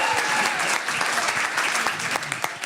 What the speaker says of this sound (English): Big hand of applause for that judge right Give it up there.